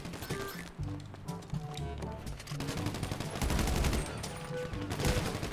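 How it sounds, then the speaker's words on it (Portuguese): Gunfire in GTA V Online, rapid bursts of automatic weapon shots crackling in quick succession, dense and loud throughout. "O Duke tomou tanto tiro agora."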